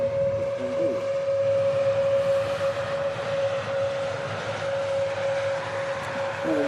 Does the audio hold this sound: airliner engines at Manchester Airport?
yes